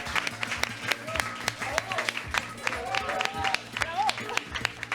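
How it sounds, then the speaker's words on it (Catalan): Applause from a live audience at the close of a Catalan talk show recording, a steady patter of claps running under people talking and chatting. "Un aplaudiment, sisplau."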